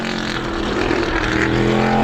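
Number 51 race car driven by Duggan on its final time-trial lap at Star Speedway in ISMA supermodified qualifying, engine roaring steadily and growing slightly louder as it nears.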